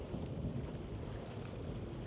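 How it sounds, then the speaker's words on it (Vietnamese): Strong monsoon-season wind buffeting a barge at sea, heard as a steady, loud, low rumble of gusts across the microphone with a constant roar and no voices. "Một phần là gió nó thổi vô mạnh quá,"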